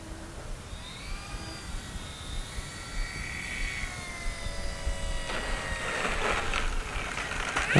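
A small FMS Kingfisher radio-controlled model plane flies overhead, its electric motor giving a thin rising and falling whine that drifts farther and nearer, with the steady hiss of an outdoor field beneath.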